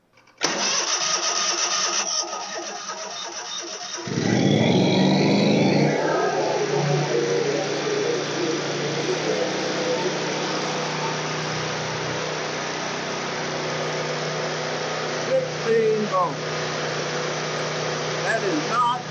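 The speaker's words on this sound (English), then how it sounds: "And I'm going to start the motor." A zero-turn riding mower's engine cranks over and catches, then keeps running at a steady loud idle for most of the stretch, with faint talk in the background.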